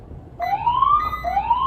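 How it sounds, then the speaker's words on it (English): A police car siren wails up close during a traffic stop, two rising sweeps that start abruptly and repeat. "The deputy hits his lights and siren"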